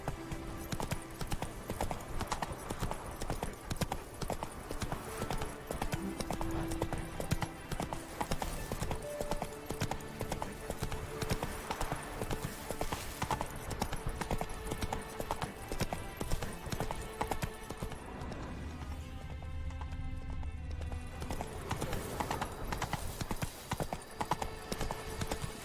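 Roach the horse gallops in The Witcher 3, rapid continuous hoofbeats drumming steadily, briefly softening near the end before resuming.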